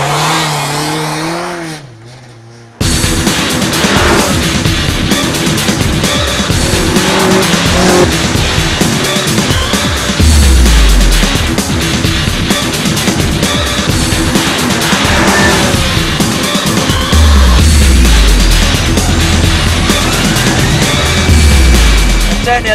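Race car engine roaring loud and close as the rear slides out, with tire squeal and skidding rising over revving and quick throttle blips, continuous for the whole stretch without talk.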